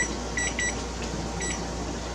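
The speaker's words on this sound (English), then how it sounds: "I'm going to set my timer for 1 minute." Several short electronic beeps come from a kitchen timer being set for one minute while plum jam boils on the stove. The beeps arrive in two close pairs over a steady low hum.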